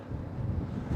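Wind gusting over 20 knots roars steadily across a sailing yacht's microphone in a harbor on the Swedish west coast, a low constant rumble with no talk.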